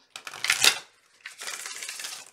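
Two quick bursts of crisp, riffling paper-like clatter, cards being shuffled up close with a short pause between them.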